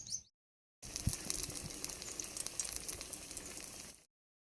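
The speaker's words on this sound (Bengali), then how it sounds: "গায়ের মধ্যে আবারও কর্নফ্লাওয়ার চুবিয়ে তেলের মধ্যে দিয়ে দিলাম" Banana flower chops coated in cornflour and biscuit crumbs sizzle steadily in hot oil, a dense crackling fry that runs for a few seconds with brief silences at either end.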